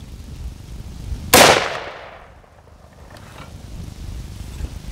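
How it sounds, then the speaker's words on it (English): An AR-15 rifle fires a single loud, sharp shot outdoors, the crack trailing into a short fading echo amid low background rumble. "Okay, firing."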